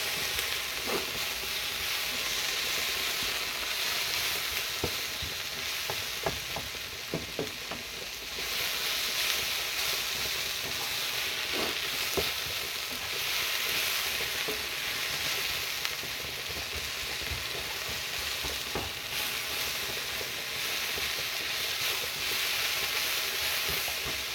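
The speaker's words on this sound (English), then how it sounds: "We're starting to caramelize a little bit." Steak sizzles and fries in a hot pan for Texas-style steak on toast, a continuous loud hiss with scattered pops and crackles and no talking over it.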